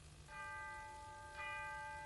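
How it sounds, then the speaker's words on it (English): A clock chimes midnight with two clear bell strikes a second apart, each leaving a steady ringing tone that hangs over a quiet, faint background. "Chiming midnight."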